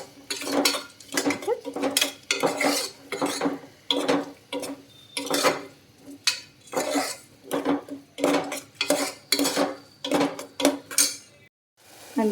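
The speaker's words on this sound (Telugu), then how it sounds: "ఆనియన్స్ కొంచెం ఫ్రై అయిన తర్వాత ఇవి కూడా వేసుకొని బాగా ఫ్రై చేసుకో" Onions, green chillies and curry leaves are fried in a pan, heard as rhythmic, repeated metallic scrapes and clinks of a spatula against the pan, close and regular, with only a faint sizzle underneath.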